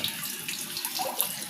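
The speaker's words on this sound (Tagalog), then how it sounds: "kunting-kunti na lang mapupuno na yung tubig sa drum" Water pouring from a tap into a large drum that is nearly full, a steady close splashing and gurgling stream with no voices.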